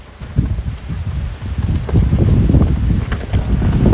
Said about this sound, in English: look at the wind